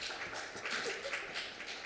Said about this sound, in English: please join me in welcoming her to the stage with a round of applause